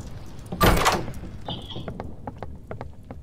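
A door in the horror video game DOORS opens with a loud burst of noise and a thud, followed by faint scattered clicks and a short high-pitched tone.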